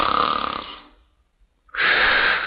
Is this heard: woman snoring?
yes